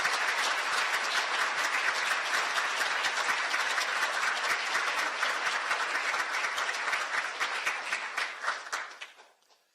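Sustained applause of thanks from a hall of civil servants at a New Year work-opening ceremony, steady and dense throughout before tapering off at the end.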